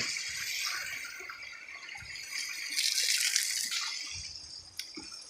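Water gushes strongly from a pipe carrying drinkable water to a garden, a steady close rushing and splashing flow heard alone throughout, with a small splash near the end.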